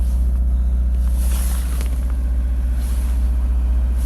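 An LS V8 swapped into a Subaru BRZ idles steadily just after its first start, giving a deep, continuous low rumble that stays close and loud throughout, with no talking.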